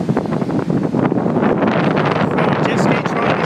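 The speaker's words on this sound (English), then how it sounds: "Massive winds today." Strong wind blowing at the ocean shore buffets the microphone in a loud, continuous roar with gusty surges throughout.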